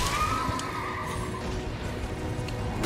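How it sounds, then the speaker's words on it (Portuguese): An armored horse in the game Elden Ring gives a short neighing whinny against a dense, steady game backdrop, with faint hoof clatter mixed in. "Ah não, é só um cavalo coberto."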